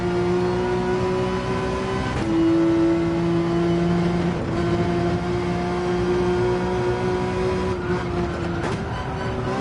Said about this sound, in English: Really got to rev out fourth there to get the benefit